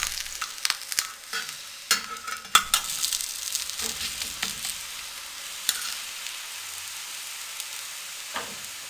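A makki roti, a corn flatbread, sizzles on a griddle over low flame after being flipped. Crackling frying stays constant under sharp scraping and tapping clicks, loudest early on, then a steady quieter hiss.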